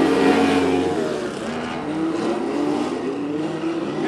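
Several POWRI race cars accelerating hard during a six-car heat at Macon Speedway, a loud, continuous engine roar with rising revs and layered motors close by, no talk over it.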